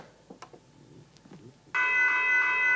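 A General Signals Type 1 electronic railroad crossing bell sounds a steady, loud, sustained electronic ring after soft handling noises, continuing without pause to the end.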